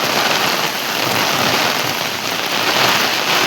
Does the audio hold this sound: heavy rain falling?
yes